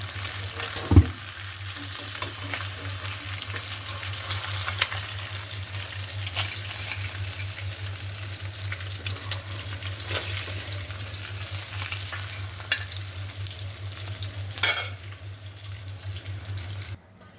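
Koi fish fry in a pan with a steady, close sizzle throughout, a few sharp clinks and stirring sounds breaking through, and a constant low hum underneath; no one speaks.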